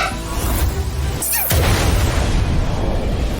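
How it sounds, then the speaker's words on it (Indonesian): Explosion from an animated fantasy series, a loud dense roar with a sharp burst about a second in, followed by a sustained rumbling blast. "Chen Chong meledak guys."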